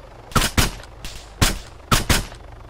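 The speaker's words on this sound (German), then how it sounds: "Jonas, hast du geschossen?" Gunshots in the military shooter game Arma 3, Altis Life mode: several sharp reports, mostly in quick pairs, rising clearly above a quiet background with no talking.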